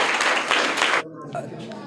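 Brief burst of audience clapping for a correct answer at a children's quiz contest, loud for about a second and then cut off, leaving a quieter room tone with faint movement.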